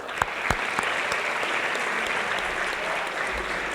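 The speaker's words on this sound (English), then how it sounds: "Round of applause." Audience applause at a high school sports awards ceremony for a sportsmanship award winner, steady and full throughout, with a few sharper individual claps standing out early.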